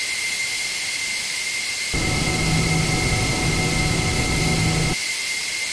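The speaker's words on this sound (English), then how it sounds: "So I'll go ahead and I will close our ladders." F-14 cockpit boarding ladders retracting in a flight simulator game, a steady mechanical whir lasting about three seconds over a constant engine and air hiss.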